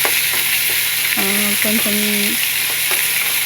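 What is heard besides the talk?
ginger and onion frying in a pan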